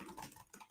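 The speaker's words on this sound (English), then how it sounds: "Sorry if you could hear me typing" Brief burst of typing on a computer keyboard, soft quick key clicks heard faintly in the background of a live stream.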